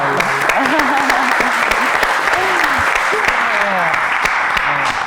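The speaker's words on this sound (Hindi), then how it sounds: "तालियां।" Studio audience applause on a Pakistani talk show, a dense, steady clatter of many hands held at an even level throughout, with voices and cheers rising over it.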